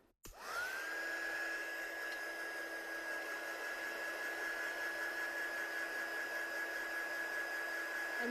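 A heat tool dries ink on a stamped card, starting with a click and then blowing as a steady, fairly quiet whoosh with a constant whine that runs for several seconds, without talk.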